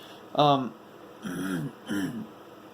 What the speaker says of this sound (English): apologies for me clearing my throat.